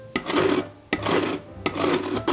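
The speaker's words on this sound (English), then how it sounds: "Let's zest. I have a lemon." A lemon being zested on a Cook Works slicer's built-in zester gives three firm rasping strokes, each a close, gritty scrape with brief pauses between them.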